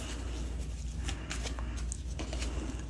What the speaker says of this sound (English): Give these a good shuffle too.